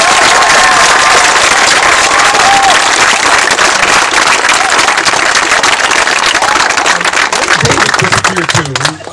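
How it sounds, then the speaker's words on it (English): An audience breaks into sustained applause at a public speaking event, dense steady clapping with some crowd noise that tails off near the end. "Would you please give her one more round of applause?"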